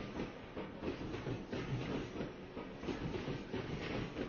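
Inside a moving train compartment, a steady rumbling clickety-clack of wheels over rail joints rolls on continuously at moderate volume, with no voices.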